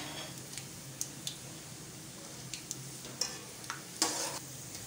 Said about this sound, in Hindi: साथ ही मेरे पास है ड्राई फ्रूट, कोकोनट, पिस्ता, बादाम। इनको भी हम थोड़ा फ्राई करेंगे।